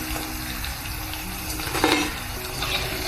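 Slices of raw jackfruit (kadgi) frying in oil, a continuous dense sizzle up close with a brief louder burst of crackling near the middle.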